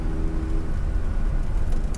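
A Porsche 911 engine revs steadily as the car is driven, a dense continuous drone that fills the cabin, with a low harmonic tone shifting slightly partway through.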